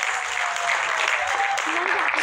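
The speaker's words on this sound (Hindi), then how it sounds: "ज़ोरदार तालियां" An audience at an arts council Defence Day event claps steadily and fairly loudly for a speaker, a continuous dense wash of applause with faint voices and a brief whistle-like tone mixed in.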